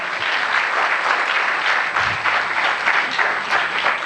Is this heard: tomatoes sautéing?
no